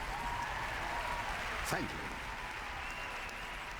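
An audience of executives applauding after a scientist's speech, a steady wash of clapping that fills the whole moment, with a brief word of thanks spoken over it.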